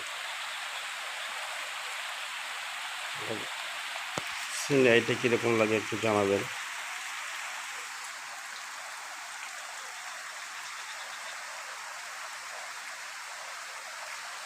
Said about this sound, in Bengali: আমার বাসার পাশে মুষলধারে বৃষ্টি হচ্ছে।